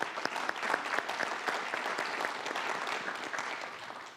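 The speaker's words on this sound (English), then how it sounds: "can we have a round of applause for that?" An audience at a West Michigan Presidents' Compact Committee event claps steadily for about four seconds: dense, sustained applause with no voices over it, tapering slightly at the end.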